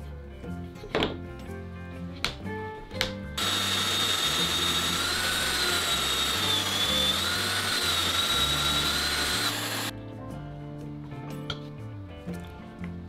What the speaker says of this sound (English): To make two holes, we also pre-drill a third hole in the middle to align the system.